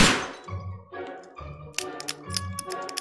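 A revolver is reloaded in the video game Sherlock Holmes: Crimes & Punishments, a sequence of hollow metallic thunks and clicks, each spaced roughly half a second apart, followed by sharper rapid clinks, close and clear.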